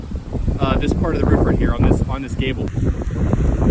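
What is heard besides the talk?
strong wind on microphone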